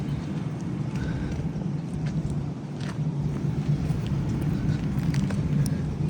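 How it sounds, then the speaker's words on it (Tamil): Road traffic jam at a crowded audio launch event, a dense steady rumble of idling and creeping vehicles with scattered honks and clatter, close and continuous, with faint voices mixed in. "எவ்வளோ தூரம் டிராஃபிக் ஜாம் தெரியுமா?"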